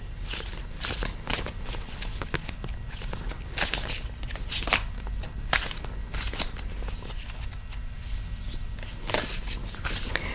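A deck of cards is shuffled close by in a quiet room, a run of soft papery riffles and crisp flicks repeating irregularly for about ten seconds, fairly faint, with no talk.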